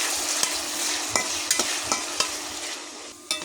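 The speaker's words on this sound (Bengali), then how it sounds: "পেঁয়াজ আমি আবারও ভালো করে নেড়ে দিলাম" Sliced onion rings frying in a pan of oil, a steady sizzling hiss broken by sharp, irregular scrapes and clacks of a spoon stirring them, close and fairly loud.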